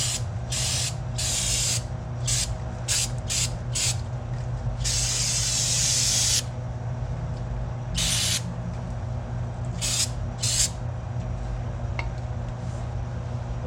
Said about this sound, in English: then I'll soak it down with carb cleaner